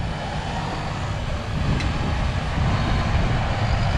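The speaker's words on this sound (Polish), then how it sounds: "ciągnik Massey Ferguson" A Massey Ferguson tractor engine, working with an eight-row Amazone seed drill sowing maize at night, drones steadily at close range, its low rumble swelling slightly louder partway through, with no voices.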